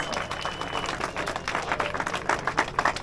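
A crowd applauds the winner at a Lithuanian autocross championship prize ceremony in Kupiškis. Scattered clapping builds slightly over a few seconds, with faint voices in the background.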